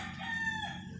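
A fighting cock crows once close by, a loud, brief, harmonic call that rises and then falls, standing alone without any talk.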